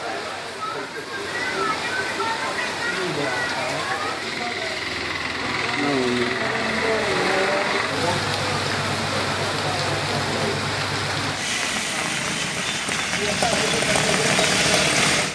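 Heavy rain falls steadily in Tiruvallur district, a dense continuous hiss on surfaces mixed with a low engine-like rumble, loud and unbroken for about fifteen seconds, with speech over it in places.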